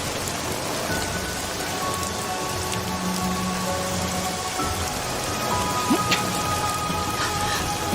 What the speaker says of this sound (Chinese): 这么大雨还站在这儿